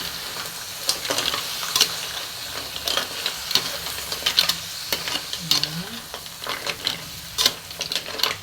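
Mussels (tahong) stirred in a pan, steady sizzling with repeated scraping clicks of a utensil, close and moderately loud, with brief talking underneath.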